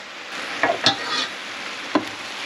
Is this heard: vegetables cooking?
yes